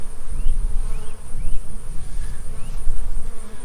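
Honey bees swarm around an opened hive while frames of brood and honey are handled, a loud, close, continuous buzzing drone with individual bees whining past.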